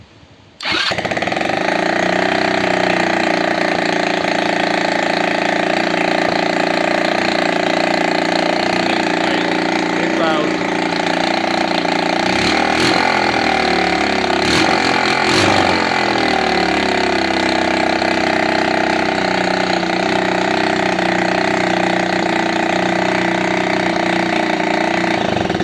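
A GY6 125cc scooter engine, restored after two years in storage, catches after a brief quiet moment and then runs at a steady, loud idle close by for the rest of the clip, with no voices.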